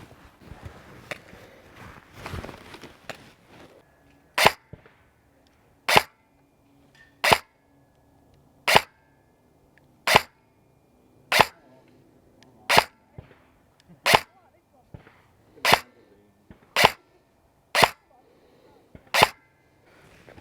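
An AATV Double Eagle M908A airsoft replica fires .25 gram BBs in a series of sharp single cracks, about a dozen evenly spaced shots roughly every 1.4 seconds, preceded by faint handling clicks.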